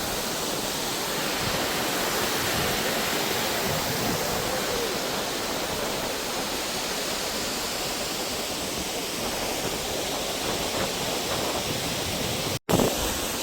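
Thief River Falls waterfall in Minnesota pours in a steady, loud, broadband roar that holds unchanged for the whole stretch, with no voices over the rushing water.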